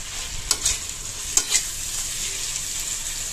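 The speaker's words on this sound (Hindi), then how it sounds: "और अब ये मसाला भूनिएगा" Chole masala with tomatoes fries in a pan with a close, steady sizzle, broken by two quick scraping stirs near the start.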